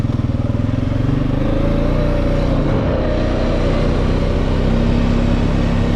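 A Honda Rubicon 500 ATV engine runs steadily in drive with its Hondamatic transmission, a loud continuous mid-pitched drone with a slight rise in revs partway through, close by and without talk.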